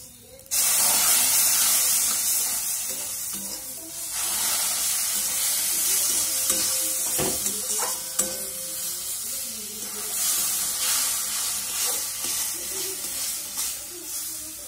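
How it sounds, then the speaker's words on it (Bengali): Water goes into sizzling semolina upma in a pan, starting with a sudden loud hissing burst of steam that settles into a steady spray-like sizzle, with a few clinks of stirring along the way. "আমি জল হালকা হালকা করে দেব।"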